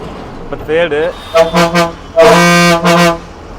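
A loud, musical air horn on a BS-6 lorry honks in several bursts, with short pauses between the blasts and a final long sustained toot.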